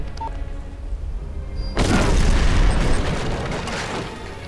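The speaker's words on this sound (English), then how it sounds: "And we detonate now." A detonator explosion in Hitman: Blood Money sets off one loud, sudden boom after a quiet stretch of ambient game sound, then rumbles and decays over the next few seconds.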